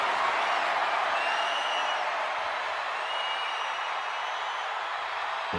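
A wrestling crowd cheers and applauds in an arena before a main event cage match, a broad continuous roar of many voices and clapping at a steady level, heard from a distance.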